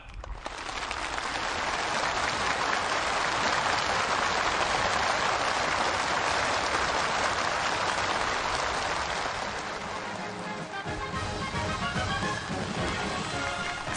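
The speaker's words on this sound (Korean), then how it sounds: "전체 참가자들이 덧쳐올리는 열렬한 박수갈채가 준공식장을 진감하는 속에" Thunderous applause from a large crowd at a factory completion ceremony, a dense continuous roar of clapping that holds steady for many seconds before thinning slightly near the end.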